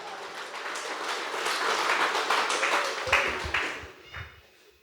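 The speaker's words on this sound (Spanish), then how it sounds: "Fuerte aplauso, Iglesia de Cristo." Applause from a church congregation, a broad wash of clapping that swells and then thins out, ending in a few scattered claps and some low voices.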